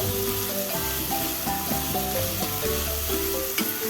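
Onions and chopped tomato sizzle steadily in a pan for Goan pulao. A continuous hissing fry sits close by, joined by occasional stirring scrapes, with soft instrumental music playing underneath.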